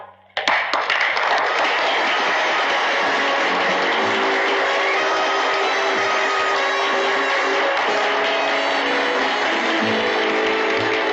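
Audience at a beauty contest breaking into loud, sustained applause for a finalist, a thick roar of many hands clapping that kicks in suddenly and holds steady without pause, recorded with a vintage 1962 film sound quality.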